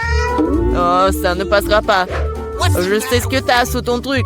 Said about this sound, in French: Ah ouais, c'est un chat.